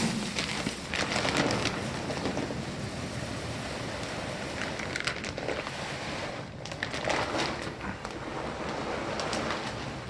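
Wood pellet fuel is poured from a bag into a Hansol pellet stove's hopper, making a continuous rushing, hissing patter of small pellets sliding and rattling, close and steady with a few brief dips.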